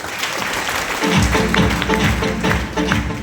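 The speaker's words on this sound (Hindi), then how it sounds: "एक बार जोरदार तालियां हो जाए सोनम को।" Audience at a motivational event applauding for Sonam, a steady crowd clapping that swells after the first second, with a rhythmic thumping beat underneath.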